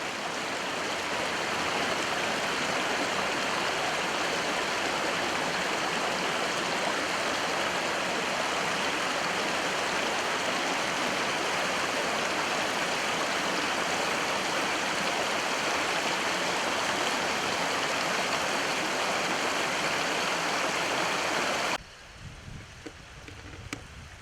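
A forest stream flows steadily with a dense, even rush of water, loud and close, then cuts off abruptly near the end.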